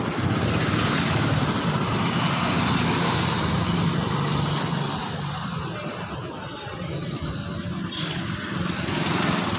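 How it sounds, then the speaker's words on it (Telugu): A freshly repainted motorbike runs and pulls away in a steady broadband engine drone that dips slightly in the middle and swells again, heard outdoors with no talking. "ఇది బండి వెళ్ళిపోతుంది చూడండి ఎలా ఉంది"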